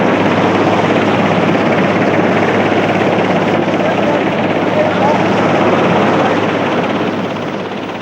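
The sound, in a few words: search and rescue helicopter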